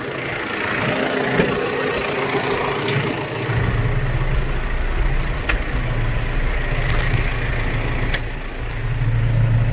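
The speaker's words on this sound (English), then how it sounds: "And we're gonna back the tractor up." A John Deere 6115R tractor engine runs steadily while the tractor backs up, a continuous mid-to-low idling drone with a deeper rumble joining partway through and rising slightly near the end, heard alone without talk.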